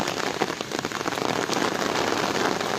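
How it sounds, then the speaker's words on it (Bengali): Steady, heavy rain pattering on surfaces all around during 2024 flooding in Noakhali, Bangladesh, a dense continuous hiss with no voices. "দেখেন এখনও বৃষ্টি হচ্ছে এখনও বৃষ্টি হচ্ছে"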